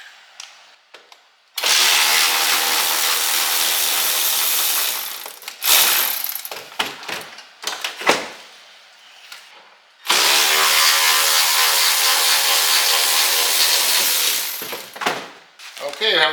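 Tools working on the rear seat of a 1975 Monte Carlo, with two long, loud bursts of ratcheting, whirring mechanical noise separated by clanks and scrapes of quick handling at close range.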